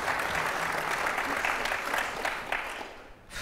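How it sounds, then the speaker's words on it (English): Audience applause at a debate on fracking, a dense, lively clatter of many hands clapping that fades out near the end, with faint voices beneath. "You may clap, of course."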